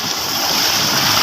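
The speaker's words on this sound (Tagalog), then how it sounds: "Yan, may mga alon mga kamuhal, lalaki din." Large ocean waves breaking at the shore make a steady, close, broadband rush of surf with no let-up and no voices.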